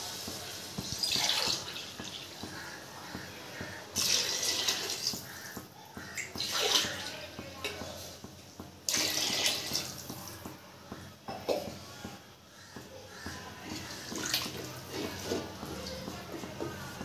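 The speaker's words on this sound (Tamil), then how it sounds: "இப்போ இந்த டம்ளரில் 3 டம்ளர் தண்ணி சேர்க்கும்." Water poured from a tumbler into a pot of sautéed masala for prawn and green pea biryani, with splashing, trickling pours repeated in several bursts, close and fairly loud, no talking.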